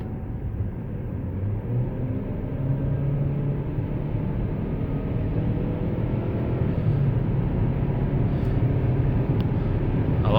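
A modern turbocharged car pulls away after a Seafoam engine treatment, a steady low engine drone that rises gradually as it accelerates, continuous and fairly loud from inside the car.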